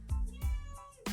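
Pet cat meowing indoors, two or three close, clear meows in quick succession, fairly loud with no talk over them.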